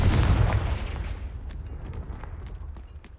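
Confringo blasting spell explosion in Hogwarts Legacy: a heavy, loud boom opens the moment, then rumbles and fades gradually, with scattered small crackles and pops trailing in the decay.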